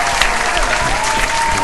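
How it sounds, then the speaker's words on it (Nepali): Audience applause after a comedy performance, dense steady clapping filling the whole stretch at close, loud level with a faint crowd murmur beneath. "धन्यवाद तपाईँ सबैले ताली बजाइदिनु भयो"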